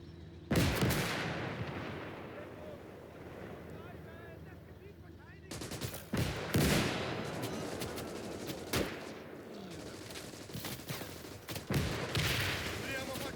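Mortar blasts and rattling gunfire fill a Call to Arms: Gates of Hell battlefield, heavy booms landing repeatedly over continuous distant shooting, with a voice talking over the din.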